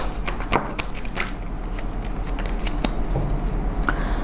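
Tarot cards are shuffled and drawn close up, a run of crisp riffling snaps and soft slides with brief sharp flicks, no talking.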